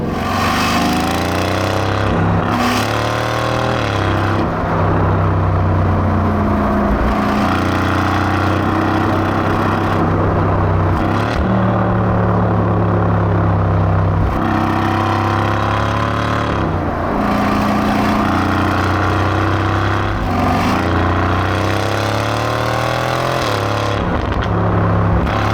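Aston Martin V8 Vantage F1 Edition engine revving loudly and accelerating through rising, sweeping gear pulls, with repeated climbs and brief drops between shifts, sustained and close.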